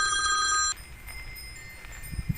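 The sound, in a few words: telephone ringing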